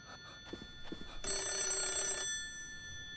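A telephone in the horror game Hollow Cocoon rings once, a loud rattling bell burst lasting about a second over a quiet hum, after a few soft knocks.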